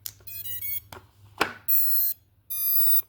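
A brushless micro flywheel blaster (HC Diana) gives its electronic startup beeps when its battery is plugged in through an XT30 connector: a few short clicks, then two sustained high-pitched tonal beeps separated by a brief gap, clear and close.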